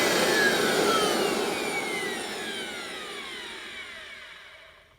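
An older blue Bissell Power Force bagged vacuum cleaner motor winds down, its loud whine sliding steadily lower in pitch and fading over a few seconds, heard alone.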